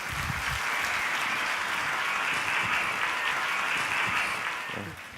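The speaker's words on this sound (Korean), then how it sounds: "여러분 뜨거운 박수로 맞아주시기 바랍니다" A Sunday worship congregation at a Korean church applauds warmly, a dense sustained wave of clapping from many hands for about five seconds that tapers off at the end, with faint voices beneath.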